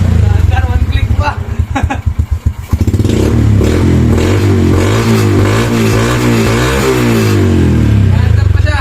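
Restored Honda Wave motorcycle engine starts after a few clattery cranking pulses, then runs at a steady, fairly loud idle with slight wavering revs, close to the microphone.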